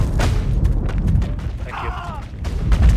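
A grenade goes off in the video game Project Normandy as a heavy boom and rumble among gunfire and mechanical clatter, with a player voice briefly over the battle noise.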